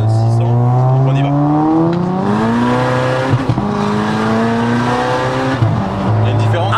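Tuned VW Golf 6R running a 600 hp engine map accelerating hard, its engine note sweeping upward through several gears with brief dips at each shift, loud and close from inside the car, with voices talking over it.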